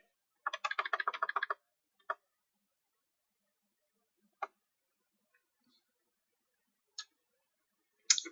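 Fingers type on a computer keyboard in a quiet room, a quick burst of soft clicking keystrokes followed by a few isolated taps spaced several seconds apart.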